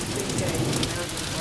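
Steady rain falling during a thunderstorm with lightning, a dense even hiss of drops on surfaces with no pauses, moderately loud and close throughout.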